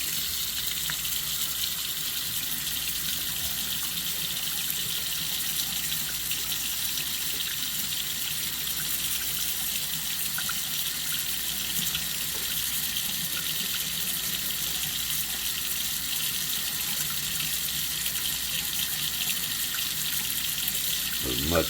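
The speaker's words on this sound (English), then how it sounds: "The hot water hasn't been ran at all. So we'll turn it on" Hot water runs steadily from a tap in a mobile home, a constant close rushing hiss that fills the whole stretch without pause and with no talking.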